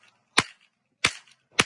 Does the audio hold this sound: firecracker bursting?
yes